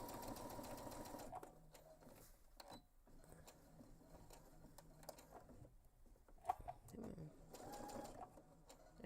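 Sewing machine back stitching backpack fabric, faint quick runs of stitching at the start and again near the end, with quiet pauses between.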